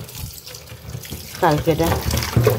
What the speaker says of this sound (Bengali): ডিমটাকে একটু ধুয়ে নিই